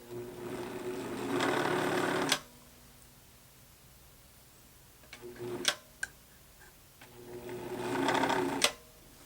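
A Pfaff Hobbymatic sewing machine runs noisily in two bursts of about two seconds each, separated by a quiet pause containing a few sharp clicks, close and fairly loud with no talking.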